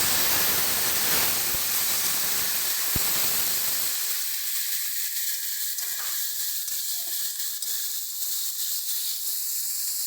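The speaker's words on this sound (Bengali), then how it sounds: "এবার আমরা চিংড়ি মাছটাকে ভেজে নিচ্ছি" Shrimp fry in hot oil in a kadai for a mixed vegetable dish, starting with a loud close sizzle and spatter that settles after a few seconds into a quieter, steady hiss.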